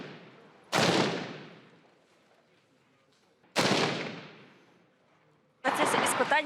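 Three loud, sharp shots spaced a few seconds apart, each with a long echoing decay, from special forces firing on targets at a shooting range; no talk.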